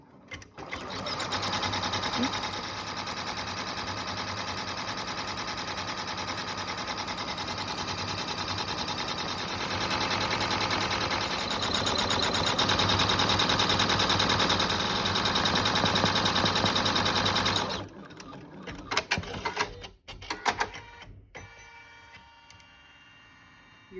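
An embroidery machine stitches a small monogram onto a tab-style two-slot credit card holder with an eyelet, its needle running in a steady, loud, rapid mechanical chatter that stops abruptly near the end, leaving a few faint clicks and handling sounds.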